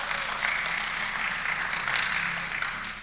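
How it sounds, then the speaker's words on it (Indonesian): A church congregation claps during a sermon, a broad, steady wash of hands that holds evenly over a few seconds, moderately loud with faint room hum beneath. "Amin, tepuk tangan buat Tuhan saja."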